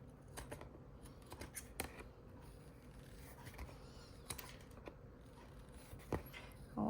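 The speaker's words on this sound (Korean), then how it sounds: "그냥 아무 가위로나 잘라도 잘 잘라지는 재질이니까 이렇게 끝을 잘라서 굴려주시고요" Ordinary household scissors snip the pointed tip off a bag insole, giving a scattering of quiet, sharp cutting clicks spaced irregularly across a hushed room.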